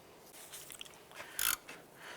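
A ratchet snugs down the bolts on a ball joint of a 2001-2005 Honda Civic, giving quiet scattered mechanical clicks and one short, louder burst of rapid ratcheting partway through.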